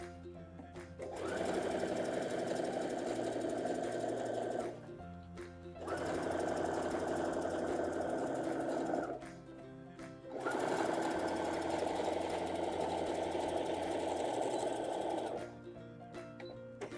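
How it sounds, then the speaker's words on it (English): A sewing machine stitches across the bottom of a vinyl tote bag in three long steady whirring runs, each a few seconds long with short pauses between, close and clear. "Now we're going to stitch across the bottom."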